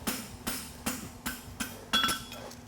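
A blacksmith's hammer works down the back edge of a toe-grabber horseshoe toward the foot surface at a blacksmithing championship, about six ringing metallic taps at a steady, unhurried pace, close and fairly quiet.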